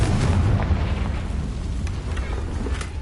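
A Confringo fire spell explodes in the Hogwarts Legacy video game, giving a dense, loud, booming rumble that holds steady for a few seconds with crackling bursts scattered through it.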